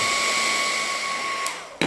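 A hot-air heat gun used for welding plastic car bumpers runs close and loud with a steady whirring fan and blowing hiss, ending in a brief knock.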